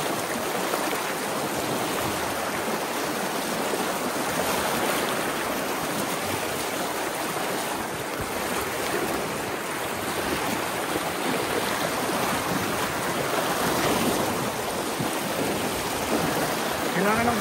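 Loud rushing river water surrounds a rafting crew during a river crossing, a steady broadband roar that holds throughout, with a few faint voices underneath.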